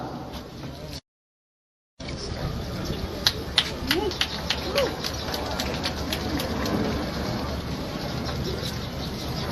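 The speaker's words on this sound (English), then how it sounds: "I hear this is May, June rain in Guyana" Rain falls steadily during an outdoor street-naming ceremony, a continuous broadband hiss broken by a brief dropout, with scattered louder drips and faint voices in the background.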